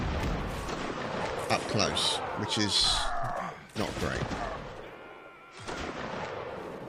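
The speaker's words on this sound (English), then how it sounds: "somebody's brought up a cannon." Cannon fire and gunfire in a Napoleonic Wars siege battle video game make booming bursts and rumbling blasts amid battlefield noise, with someone talking over them.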